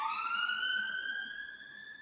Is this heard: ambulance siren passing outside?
yes